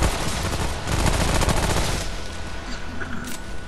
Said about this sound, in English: we're absolutely demolishing him with this gun